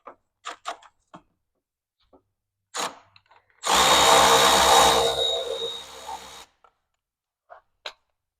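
Power ratchet or drill-driven socket wrench spinning off a 10 mm exhaust bolt on a Ski-Doo Gen 5 turbo snowmobile, one loud sustained whir of about three seconds between scattered clicks and clanks of tool handling.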